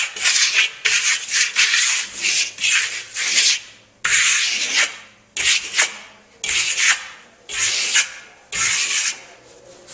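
A brush lays lime wash onto a damp clay wall in a crosshatch pattern, making loud, rhythmic scrubbing strokes in repeated bursts with short pauses between them.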